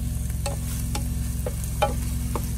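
Steak and eggs frying in a pan inside a semi truck cab, a steady sizzle over a low engine-like hum, with a few sharp utensil clicks, close and without talk.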